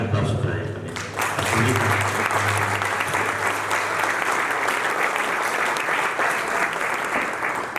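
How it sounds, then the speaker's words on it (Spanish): Audience applause at a medal ceremony in a Mexican state hall, a voice finishing over a low hum before a dense burst of many clapping hands breaks in and holds steadily at full strength. "fue el licenciado Luis Echeverría Álvarez, para quien pido un fuerte abrazo y un gran aplauso para él también."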